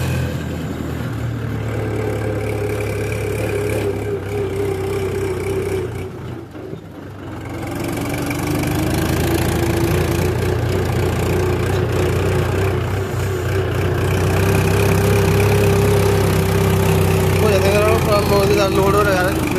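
A Mahindra 475 DI tractor hauling a load of soybeans runs in third gear on a rough road, its engine droning steadily and loudly with a short dip midway, while someone talks over it.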